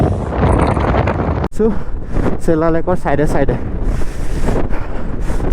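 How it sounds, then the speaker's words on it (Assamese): Strong wind at Sela Pass near Sela Lake in Arunachal Pradesh, roaring constantly and loud against the microphone, with someone talking through much of it. "বতাহ বহুত দি আছে"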